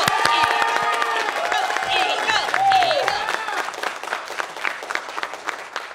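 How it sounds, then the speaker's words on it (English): An audience at an April Fools debate on eagle versus turkey bursts into loud applause and cheering to vote for the eagle, with shouting voices mixed into the sustained clapping. "By applause, who favors the eagle?"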